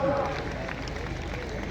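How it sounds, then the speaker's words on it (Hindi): An audience applauds with dense, steady clapping throughout, a loud wash that never breaks, while a voice speaks over it. "जोरदार तालियों से"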